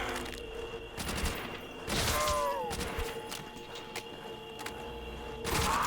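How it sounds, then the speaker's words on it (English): Gunfire from a Thompson submachine gun in the Call of Duty Zombies map Shi No Numa, with repeated loud shot bursts and thuds in several clusters over continuous game noise. "This Thompson is really good for money making."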